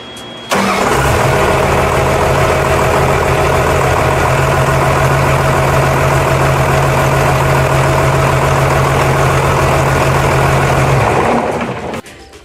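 Case 621 wheel loader, freshly fitted with a replacement fuel injection pump and warmed to operating temperature, runs loud and steady at a smooth idle for about ten seconds before shutting down, with no talking.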